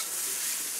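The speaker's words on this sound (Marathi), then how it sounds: "हलवून घेऊया" Chana moong dal being stirred in a pan after cooking covered on a low flame, a short steady scraping and soft sizzle heard alone, close and moderately loud.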